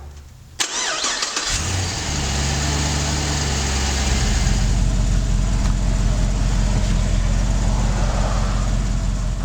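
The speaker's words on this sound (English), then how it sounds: "start the engine up" A car engine cranks and catches at the start of a power steering flush, then settles into a steady, loud, close-up idle with no talking.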